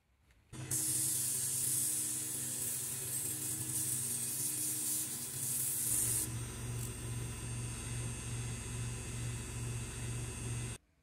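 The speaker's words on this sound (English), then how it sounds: "now I'm going to use a sanding disc on my lathe to clean up the face of this" A sanding disc on a lathe smoothing the face of a cast aluminum coin gives a steady, close, loud hiss with a constant motor hum. The tone shifts partway through and carries on evenly until it stops abruptly.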